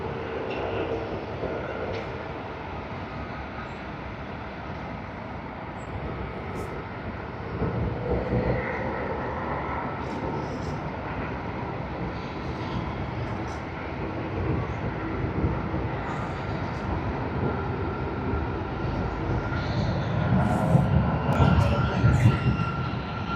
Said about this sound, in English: It's begun its takeoff roll.